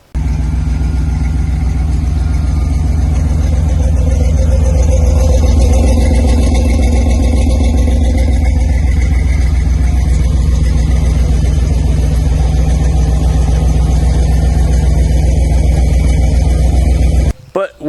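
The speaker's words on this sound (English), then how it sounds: "I do have a sound clip on my phone of it just idling" A Honda EK Civic with a swapped B-series engine idling, a steady, loud, low rumble held close and constant for the whole stretch with no revving, cutting off abruptly at the end.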